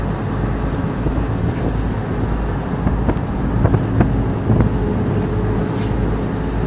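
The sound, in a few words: strong wind at sea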